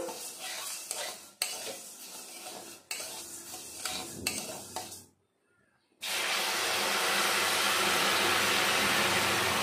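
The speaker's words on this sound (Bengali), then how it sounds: "আমি 2 থেকে 3 মিনিট মতো ভেজে নিয়েছি, এখন দিয়ে দেব জল।" Moong dal and pointed gourd being stirred in a frying pan scrape and clatter, then after a short pause water hits the hot pan and erupts into a loud, sustained sizzle.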